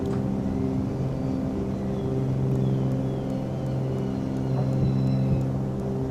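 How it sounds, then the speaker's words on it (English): A steady, loud engine drone with a deep hum holds throughout as a Cessna 310R's landing gear retracts in Microsoft Flight Simulator, faint whirring rising above it, no voices. "I love the sound of the gear in the aircraft."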